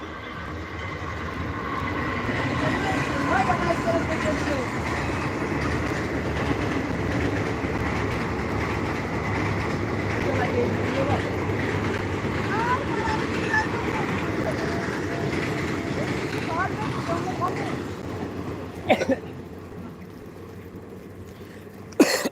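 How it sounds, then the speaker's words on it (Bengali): A train runs past beside the swollen Ganges, its broad steady rumble and rattle filling about twenty seconds at moderate loudness before sharp clanks near the end. "যাচ্ছে ট্রেন আছে ট্রেন"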